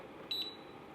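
A single short, faint electronic beep from the timer button of an Aroeve MK09W air purifier, heard close over a low steady fan hum.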